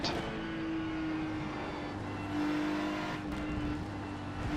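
Ferrari 296 GT3 race car in iRacing at Spa, Belgium, with a steady droning engine note held at high revs throughout, a constant loud mechanical hum with slight pitch shifts and no talk.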